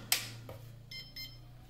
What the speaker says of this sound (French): On l'entend biper deux fois.